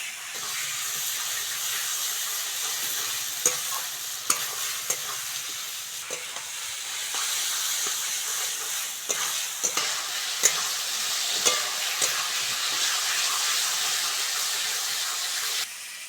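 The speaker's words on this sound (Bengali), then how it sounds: "অল্প করে জল দেব মশলাটা ভালো করে কষে নেবো" Spice paste for a Bengali fish curry with potatoes sizzles and hisses steadily in a pan, with a spoon stirring and tapping at intervals through the continuous frying hiss, close and moderately loud, without speech.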